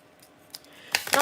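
Scissors trim a strip of paper in a few short snips, growing louder toward the end, close and brief over a faint room background.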